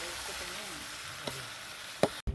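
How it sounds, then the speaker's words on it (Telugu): Chicken pieces frying and being stirred in a pot for a chicken curry cooked outdoors in a forest: a soft, steady sizzle with a faint scrape, then a sharp clank near the end. "చికెన్ అయితే వేసేసుకున్నాము, కలుపుతున్నాము."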